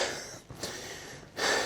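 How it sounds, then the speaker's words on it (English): A player gasps and breathes heavily while running an airsoft CQB course, loud close breaths with a noisy rush and a sharp intake near the end. "I know I heavy breathe a lot in these videos."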